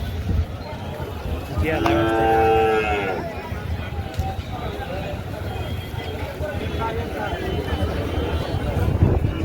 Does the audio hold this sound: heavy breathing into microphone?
no